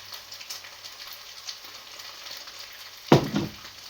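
Tomato goes into a bolognese pan with a single loud sizzling splash at about three seconds, which rises over a steady faint frying hiss and then fades slowly.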